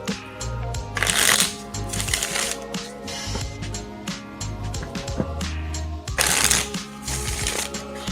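A deck of cards being shuffled, with two loud riffling bursts and softer card handling and tapping between them, close and clear, with little talk.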